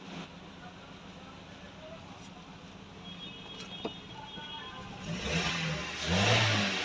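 Maruti Suzuki Swift engine running with a check-engine fault, a faint steady idle under soft background noise that swells slightly near the end as it is revved, with people talking nearby.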